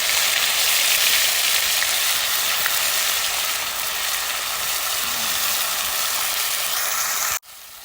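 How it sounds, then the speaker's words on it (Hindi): Spices dropped into hot mustard oil for an Odia-style small fish masala, a loud, dense, close sizzling hiss that holds steady throughout before cutting off abruptly near the end. "तेल भी गरम हो गया है। अभी हम उसमें मसाले डालेंगे।"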